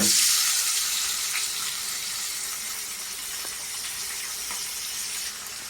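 Chopped onions, tomatoes, green chillies, curry leaves, ginger-garlic paste and cumin seeds sizzling in hot oil: a loud, bright hiss at first that settles into a steady, slightly softer frying crackle with no talking.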